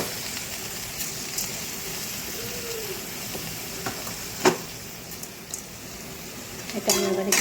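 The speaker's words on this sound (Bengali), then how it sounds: "এটা আমি এবার এর সাথে ভালো করে নাড়াচাড়া করে নেব এবং কিছুক্ষণ এটা নাড়তে থাকবো" Gobindobhog rice and spices are stirred in a sizzling pan. A steady frying hiss runs throughout, broken by occasional light scrapes and clinks of the spoon against the metal.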